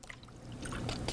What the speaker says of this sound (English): pour it in a simple spray bottle